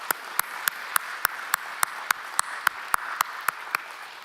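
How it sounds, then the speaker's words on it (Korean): A church congregation claps together in a steady rhythmic beat, about fifteen sharp even claps spaced evenly, moderately near with no talk over them. "우리 박수로 하나님께 영광 돌리겠습니다."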